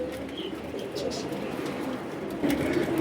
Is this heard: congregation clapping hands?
no